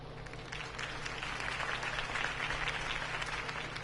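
Crowd applause inside a Batman: The Telltale Series game scene, a steady wash of clapping at moderate level filling the whole stretch with a low background hum beneath.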